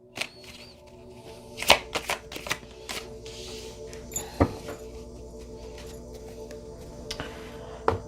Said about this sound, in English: I shuffle all of these before I come on, but I like to do it on camera.